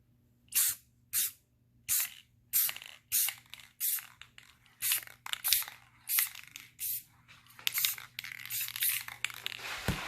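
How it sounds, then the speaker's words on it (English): An aerosol can hisses out in a series of short, close bursts of spray paint in a garage, roughly a dozen, with brief pauses and some rattling between them. "I'm going to spray, sorry about the shake, some paint."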